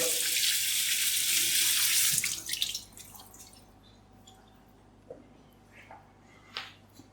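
Cleaned prawns are rinsed under cold running tap water, a strong steady splashing stream for about two seconds that then shuts off, followed by faint drips and small handling sounds.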